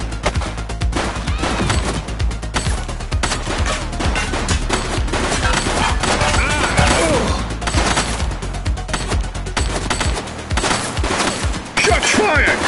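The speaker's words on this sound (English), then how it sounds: "Shots fired!" Gunfire in the police game The Precinct, dense rapid bursts and volleys of shots close and loud, nearly continuous, with shouted voices mixed in.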